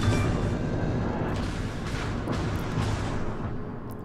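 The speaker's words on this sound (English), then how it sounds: "So I'm lining up a shot, 3 seconds" Heavy naval gunfire from the battleship Iowa in World of Warships, a dense continuous low rumble of big-gun booms rolling loud and close across the whole moment, no talk over it.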